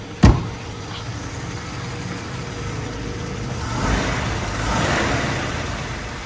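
A 1953 Rolls-Royce Silver Wraith HJ Mulliner touring limousine engine cranks with a sharp click and catches, then settles into a smooth, quiet idle with a slight rise in revs.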